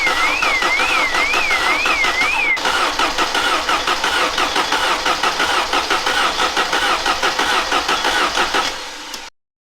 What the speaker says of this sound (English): take the coil leads off, spin it over, try and get some oil pressure in it because it hasn't been started for 16 years